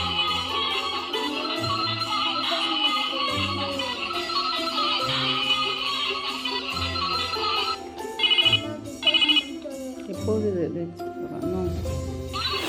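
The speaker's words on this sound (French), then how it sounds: "Le téléphone, comment est-ce que ça chante?" Telephone ringtone ringing in a home, sounding as two short bright repeated bursts amid steady background noise and voices.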